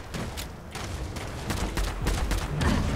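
Rapid 5.56 rifle gunfire in Fallout 76 plays as a dense stream of sharp shots. Some shots are closer and louder, and the fire builds slightly toward the end.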